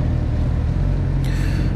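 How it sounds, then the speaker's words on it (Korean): A new Suzuki GSX-S1000 motorcycle on its stock exhaust runs as a steady, low engine drone, heard close while riding, with a brief higher whine near the end. "배기음은 그리고 이전에 카타나에서도 말씀드렸었지만 이제 순정 상태인데도 상당히 좋아요"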